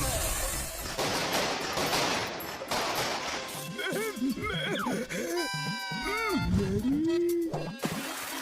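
Fireworks crackle and burst in a loud, dense barrage during a Holi celebration in the Motu Patlu Hindi cartoon, then cartoon characters talk over the continuing pops and fizzing.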